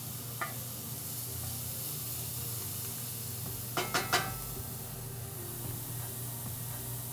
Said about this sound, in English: we're gonna add our mushrooms. We're just gonna saute them until they're soft and a little bit brown.